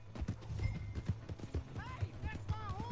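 A horse's hooves clip-clop in Red Dead Redemption 2, irregular thuds at close range, mixed with game voices and shouting, a few bright tonal sound effects near the end.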